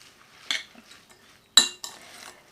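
Drained, cooled vegetarian spring roll filling being mixed in a bowl, with two sharp utensil clinks against the dish and soft scraping between them, close and alone without voices.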